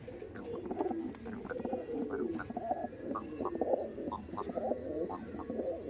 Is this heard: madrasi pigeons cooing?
yes